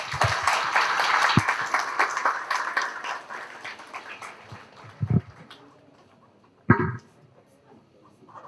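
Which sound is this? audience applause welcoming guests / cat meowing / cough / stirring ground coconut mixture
audience applause welcoming guests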